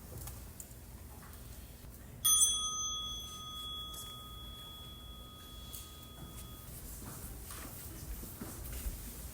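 A small meditation bell is struck once, giving a clear, bright ding that rings out and slowly fades over several seconds in an otherwise quiet room.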